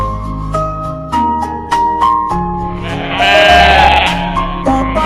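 A sheep bleats with a wavering cry over a bouncy melody with steady beats; the bleat rises clearly above the music midway through.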